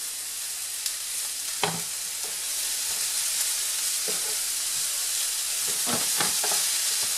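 Bell pepper and chopped courgette sweat in a hot pan, giving a steady soft sizzle with a few faint stirring scrapes and taps.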